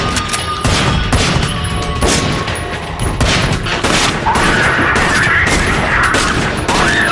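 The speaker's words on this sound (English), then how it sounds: "let's just shoot the walls and waste our ammo" Sustained gunfire from a film action scene, guns blasting at walls in a dense, loud, continuous barrage of overlapping shots with no pauses.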